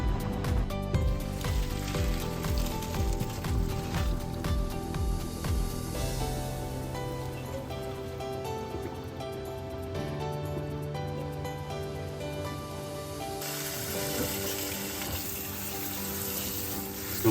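Cold tap water runs over cooked spaghetti in a sink, a continuous loud rushing stream that holds steady the whole time, with shifting splashes as the noodles are rinsed.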